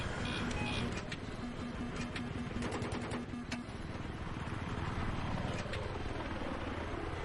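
A video-game helicopter beats with a steady rotor chop and engine roar, loud and continuous, with game effects layered on top.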